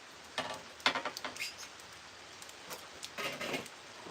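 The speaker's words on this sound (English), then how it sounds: "My whole arm is soaked over here because it's raining on me." Rain pattering outdoors, heard as scattered soft taps and brief bursts of drops landing near the microphone, with quiet gaps between them and no talking.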